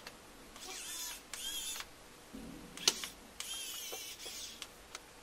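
Small screws are driven back into a Nintendo Switch Joy-Con being repaired for joystick drift, giving faint, close mechanical ticks and short scraping bursts with a few sharp clicks.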